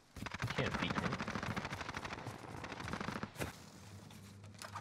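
Rapid automatic fire from a CX-9 Serac SMG in Call of Duty Warzone, a fast continuous burst of shots up close, followed by a couple of isolated cracks, with a voice talking over it.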